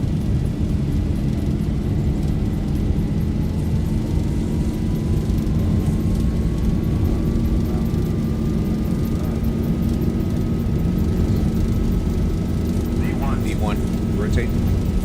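Loud, steady roar of Boeing 737-800 jet engines during a takeoff roll in a flight simulator game, a constant broadband rumble with a rising whine, while voices speak over it.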